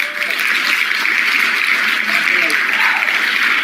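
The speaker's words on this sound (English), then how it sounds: "And we got a hand clap." Dense applause from many hands fills the clip, a steady roar of clapping with murmuring voices mixed underneath.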